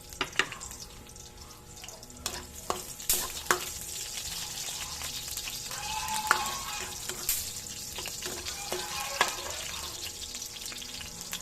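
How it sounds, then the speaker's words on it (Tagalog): Garlic sizzles and fries in natural coconut oil in a pan, a steady crackling hiss broken by sharp scrapes and clinks of a utensil stirring, fairly close and moderately quiet. "Ilagay na kaagad natin ang bawang."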